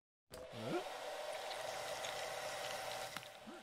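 Blow dryer in a cartoon, a steady airy whoosh running continuously after a sudden start, with a few brief sliding tonal squiggles layered over it.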